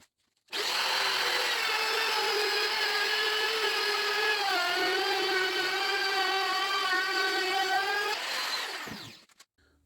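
A router cuts a channel in a fretboard using a slotting jig, starting abruptly into a loud steady high whine that dips slightly as it bites the wood, then winds down near the end.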